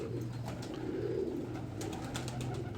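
Soft, repeated low cooing from red-headed pigeons in a loft, a pulsing murmur over a steady background hiss, with no talking.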